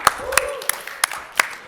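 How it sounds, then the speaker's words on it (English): An audience applauds at a Web3 conference talk on auctions and public-goods funding, with a handful of separate sharp claps spaced across a short burst and a faint voice underneath. "Hey, big applause."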